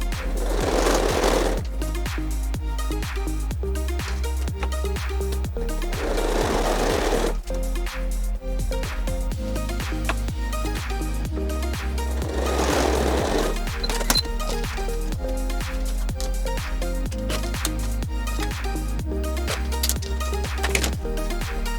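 A sewing machine stitches a quilt block for a star-in-a-star pattern in steady rapid bursts, pausing briefly between runs of seams, close and loud with no talking.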